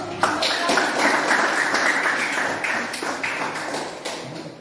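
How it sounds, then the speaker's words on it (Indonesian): Classroom applause from a group of students, a steady dense patter of clapping lasting several seconds and slowly thinning toward the end. "Kita beri aplaus dulu."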